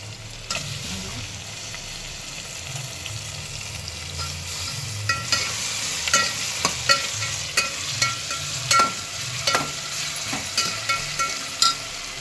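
Tomatoes go into a hot frying pan, with a steady sizzle of frying and a run of sharp, regular scrapes and clinks as a spoon stirs them, close and alone without speech.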